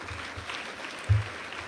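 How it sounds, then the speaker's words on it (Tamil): Audience applause at a Tamil public gathering honouring a long-time national service scheme volunteer: soft, fairly distant clapping with a few low thumps, faint and brief, with no voices over it. "நம்ம கைத்தட்டலாம் உங்களுக்கு"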